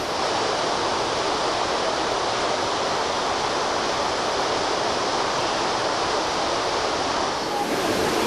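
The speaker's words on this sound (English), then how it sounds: "behind me is a beautiful waterfall" Steady, dense roar of a jungle waterfall, a broad constant rush with no breaks, loud and close throughout.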